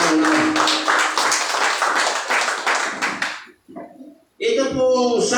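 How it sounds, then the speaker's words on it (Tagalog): A Sunday worship congregation claps together in a quick, dense burst for a few seconds, then the clapping stops and a voice speaks. "palakpak sa Panginoon"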